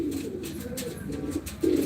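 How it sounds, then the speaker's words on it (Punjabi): Pigeons at a rooftop pigeon-flying contest coo in low, rolling murmurs, near and steady, with a louder coo at the end. "ਕੀਕੇ ਵੀਰ ਦੇ 6 ਦੇ 6 ਕਬੂਤਰ ਉੱਡ ਰਿਆ"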